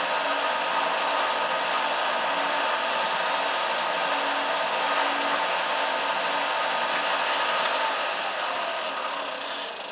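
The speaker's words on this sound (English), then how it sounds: "so I hit it with a belt sander." Belt sander grinding the nose ring of a model airplane to angle it for motor offset thrust, a steady, loud, close whirring rasp that runs continuously without pause.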